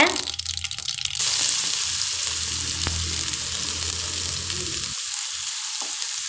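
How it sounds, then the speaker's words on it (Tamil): Onions sizzle steadily in hot oil with mustard seeds and cumin for a green peas kurma, a loud, dense frying hiss that begins with a burst and carries on throughout, with no talking. "வெங்காயத்தை நல்லா வதக்கிக்கோங்க"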